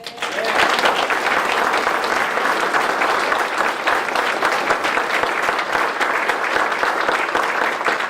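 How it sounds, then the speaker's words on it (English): Enthusiastic crowd applauding at a community dedication ceremony naming a tax office in honor of a local leader. The clapping is dense, loud and sustained throughout, with no speech over it. "This enthusiastic crowd, Mr. Sanchez, is evidence of the respect and"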